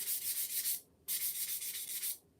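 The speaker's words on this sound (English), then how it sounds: "I am going to sand it lightly" Sandpaper lightly rubbing over a painted wooden craft kit piece with shiplap lines, two steady back-and-forth passes of close, bright scratchy friction separated by a brief pause.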